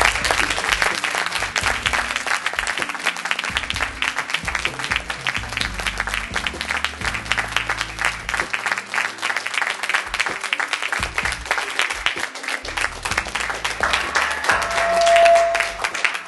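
An audience claps continuously and evenly for a speaker at a church-style gathering, the applause dense and sustained for over fifteen seconds.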